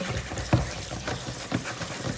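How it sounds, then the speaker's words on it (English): Cold tap water runs into a bucket of cooked lasagna noodles in a kitchen sink, a steady broadband splashing stream with a couple of louder clunks partway through. "Then I'm gonna run cold water over it, just so they won't stick."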